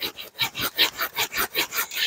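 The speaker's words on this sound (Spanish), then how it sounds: "me voy a durar un buen rato cortando estos palos" Wooden sticks being cut by hand, a rapid regular back-and-forth rasping stroke repeating about five times a second, close and fairly loud with no voices.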